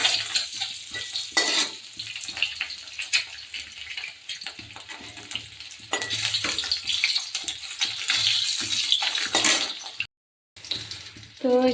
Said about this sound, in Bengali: ডিমটা আমি ভেজে নিচ্ছি।